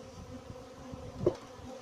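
Carpathian Luchkovska honey bees give off a faint, continuous buzzing hum at the hive, a low drone with a brief slightly louder pass near the end.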